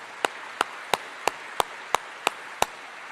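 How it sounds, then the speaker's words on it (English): Applause for pianists at a school district's State of the District event, heard as crisp, evenly spaced single hand claps, about eight in a steady rhythm roughly three per second, fairly close, over a quiet room hum. "Let's give them all a big round of applause."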